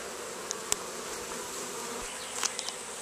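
A steady, low insect drone of many honey bees buzzing close by around a hive being robbed, with a few brief clicks and louder passes near the end.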